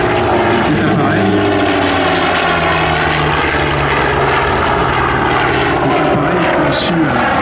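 A Douglas Skyraider propeller plane flies past at an airshow, its piston engine droning loudly and steadily throughout with a strong, rough, buzzing roar.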